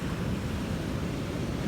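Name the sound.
ocean waves on the shore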